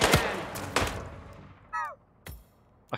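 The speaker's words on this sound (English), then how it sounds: "this is, it's an airsoft gun" Airsoft gun shots in Hitman VR, a few sharp cracks spaced under a second apart, then a short whooshing swipe and two more snappy reports, close and crisp against a quiet background.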